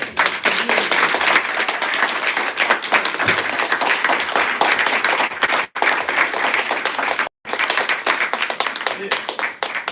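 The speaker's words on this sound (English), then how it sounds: "to give them a round of applause" An audience at a live talk-tour event in Las Vegas claps in a dense, sustained round of applause, with two brief breaks in the clapping.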